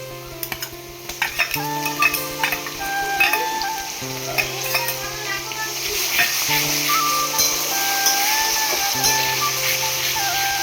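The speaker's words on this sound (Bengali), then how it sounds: "দিয়ে এটাকে কষিয়ে নেবো, ভালো মতো কষিয়ে নেবো এটা" Ginger garlic paste sautéing in a pan for chicken curry, a steady close sizzle with scraping stirs and occasional clinks of utensil on pan, while background music plays throughout.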